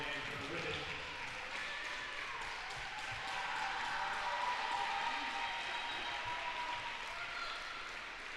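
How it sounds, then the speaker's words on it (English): Fans at a women's college basketball game applaud a player from the stands, a faint, distant wash of clapping mixed with crowd murmur filling the gym, with a commentator talking over it. "Round of applause given to Hip from the Shelby fans for her efforts running the ship tonight."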